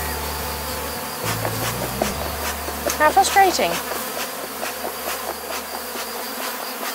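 A dense buzz of bees around a hive hums throughout, with a brief voice speaking over it midway.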